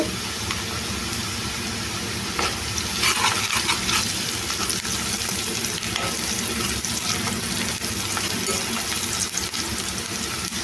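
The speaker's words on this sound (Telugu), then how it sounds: "ఒక రెండు నిమిషాలు ఫ్రై చేసుకోవాలి" Onions fry in a pan with curry leaves and turmeric, a continuous close sizzle and hiss with faint stirring scrapes throughout.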